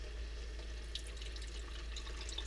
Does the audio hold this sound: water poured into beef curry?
yes